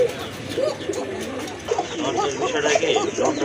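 A pair of large pigeons held for sale coos softly and repeatedly, the gentle warbling calls running almost continuously at close range.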